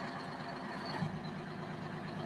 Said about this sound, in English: Hear the sound of that 2-stroke,